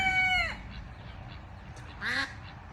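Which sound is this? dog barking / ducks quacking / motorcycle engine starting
ducks quacking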